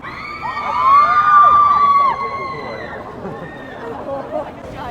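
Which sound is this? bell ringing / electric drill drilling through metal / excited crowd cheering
excited crowd cheering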